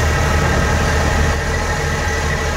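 A Suzuki DA64 engine with a turbo idles with a loud, steady low rumble and even vibration, holding a constant pitch for a few seconds with no talking.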